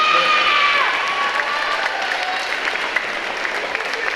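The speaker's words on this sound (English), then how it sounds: "Let's give her a round of applause." An audience at a middle school awards program applauds an award winner with a full, sustained round of clapping mixed with some cheering, holding at an even level throughout.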